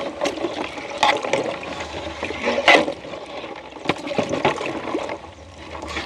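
Dissolved sugar syrup strained through a sieve, liquid trickling and splashing in uneven bursts for several seconds, close and moderately loud, with no talking.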